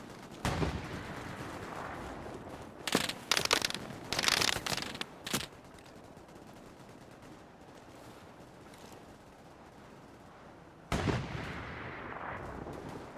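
Gunfire in the WWII shooter game Hell Let Loose: loud bursts of rapid shots in several clusters, then a long quieter stretch of distant battle ambience before another burst near the end.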